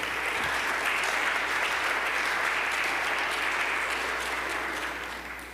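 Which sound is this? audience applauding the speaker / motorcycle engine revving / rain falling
audience applauding the speaker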